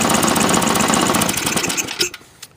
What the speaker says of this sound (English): That rattling you hear, that's just the front auger right there.